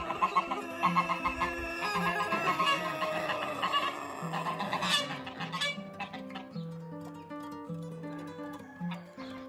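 Several roosters crow loudly and repeatedly, one with a deep voice, overlapping with clucking poultry and honking geese in a busy barnyard.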